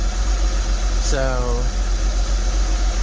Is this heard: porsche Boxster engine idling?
yes